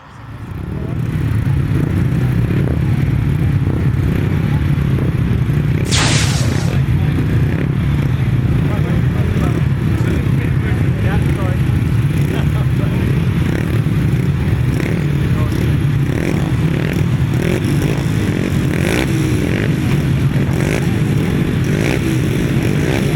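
350cc grasstrack motorcycles racing at the Master of Midshires meeting, a continuous loud engine roar and rumble that holds steady throughout with no pauses, one brief sharp burst near the start.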